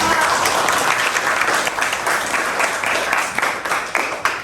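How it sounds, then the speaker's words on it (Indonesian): Dense clapping from a group of participants in a teacher-training session, steady and fairly loud throughout, crisp individual claps standing out toward the end. "Tepuk tangan dulu untuk kelompok 2."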